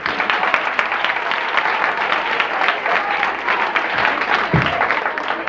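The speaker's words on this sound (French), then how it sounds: "Applaudissez-la, s'il vous plaît" Loud, sustained clapping from a school competition audience honoring a student, many hands in a thick continuous wash that swells slightly near the end, with a faint voice briefly underneath.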